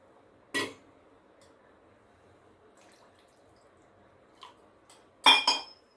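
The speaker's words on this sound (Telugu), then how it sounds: "ఇప్పుడు ఇది బాగా కలుపుతూ ఉండాలి, బాగా మరగనివ్వాలి." A spoon clinks against a pot of sweet corn soup as it is stirred: a sharp metallic tap, then quiet, then a softer knock and a louder double clink near the end, with no voices.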